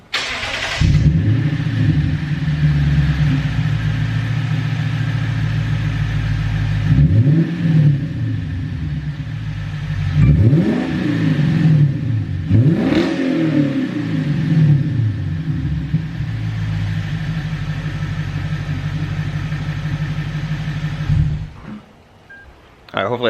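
Lexus IS F V8 with a muffler delete and valved exhaust, idling with a deep rumble and blipped in several quick revs that rise and fall, recorded up close outdoors before the engine cuts off.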